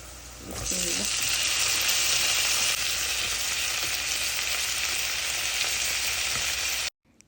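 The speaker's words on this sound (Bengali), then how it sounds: "এবার শুটকিগুলোকে ভালোভাবে মিশিয়ে নিচ্ছি এই তেলের মধ্যে" Dried fish fries in oil in a pan, a steady close sizzling hiss that swells in after a soft start and runs evenly for about six seconds before stopping.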